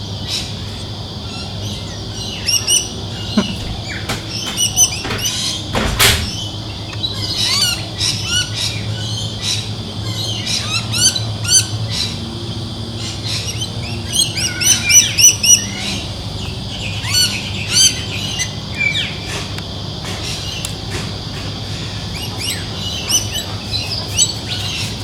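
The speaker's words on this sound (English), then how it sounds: "There's a heap of birds out the back here." Many birds squawk and chirp at once in a busy outdoor chorus, harsh calls overlapping with steady insect buzz in the background.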